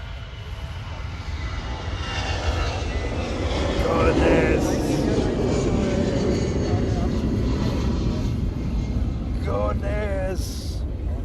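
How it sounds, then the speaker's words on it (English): A United Airlines airliner bound for San Francisco taxis toward the north side of an airport, its engines a steady broad roar through the clip while someone talks over it. "United Airlines heading to San Francisco, taxiing to the north side"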